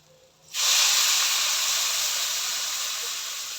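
Water poured into a pan of sizzling chicken curry, a sudden loud hiss of steam that erupts after a quiet start and holds steady, slowly easing over a few seconds.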